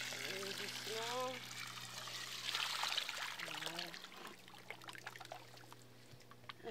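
Water is poured from a bucket into a plaster mix for a straw-bale house at a self-build site, a steady splashing pour under outdoor talk, with voices speaking before and during it.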